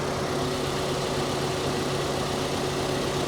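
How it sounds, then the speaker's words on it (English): A four-cylinder car engine idles roughly, steadily and loudly up close, with one cylinder misfiring, a continuous low rumble with a slightly uneven, lumpy tone. "Oh yeah, she's idling like crazy. Yeah, see the engine?"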